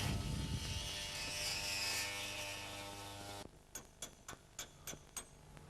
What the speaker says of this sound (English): an air saw, a clean cut can be produced quickly